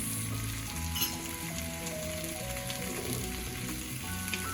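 Pieces of arbi (taro root) coated in gram flour and spices fry in a pan, giving a steady, dense sizzle and crackle close up, continuous throughout with no voices.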